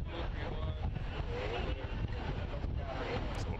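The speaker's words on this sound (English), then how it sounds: "You can see from the flag, it is just gusting out there tonight." Steady wind roars across the microphone at an evening MLS Next Pro soccer match between Orlando City B and TFC II, a dense, continuous rush of low buffeting with no clear breaks.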